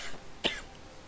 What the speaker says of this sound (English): they're probably pretty annoying for you guys when I cough every 2 seconds